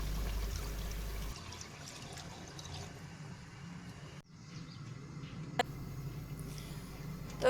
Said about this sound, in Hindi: अब इसमें हम 1 लीटर पानी शामिल करेंगे ताकि ये शोरबा अच्छे से बन जाए।